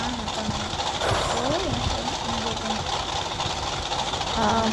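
A vehicle engine runs with the handbrake on, giving a steady, droning hum throughout, while people talk over it.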